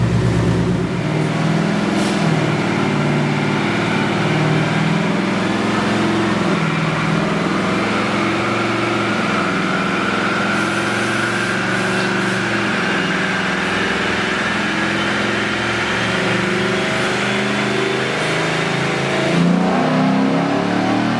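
Ford Mustang with a Coyote engine runs on a dyno, a loud sustained roar climbing steadily in pitch as it revs through a long pull, close and continuous with no voices.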